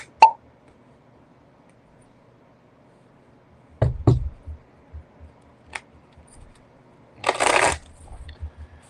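A deck of cards being shuffled at a table during a tarot or astrology reading: a sharp riffle at the start, then soft taps and shuffles, and a longer riffling burst near the end, with no voices.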